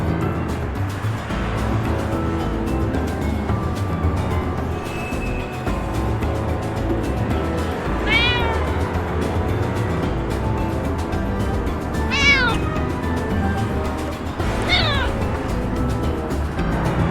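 Several cats meow in the Nick Bounty point-and-click game, with three drawn-out, rising-and-falling cries spaced a few seconds apart over a steady, busy background of music and ambience.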